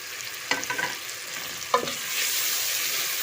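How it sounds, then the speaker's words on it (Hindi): Close sizzling of spice masala frying with tomatoes, onions and garlic in a pan, with a couple of spatula scrapes and a steady hiss that swells toward the end. "अब इनको साथ टमाटरों और प्याज़ों लहसुन के साथ हम अच्छी तरह से मसालों की भी भुनाई करेंगे"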